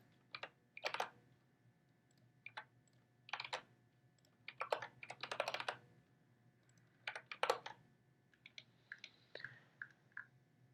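Keys on a computer keyboard clack in short irregular bursts of quick taps separated by pauses, close and fairly quiet in an otherwise still room.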